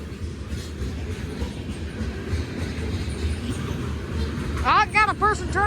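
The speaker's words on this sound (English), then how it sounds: "Looks like a green train." A Union Pacific grain train rolls through town, a loud steady rumble of railcars with rhythmic wheel clatter, ending in sharp repeated wheel squeals or horn-like tones near the close.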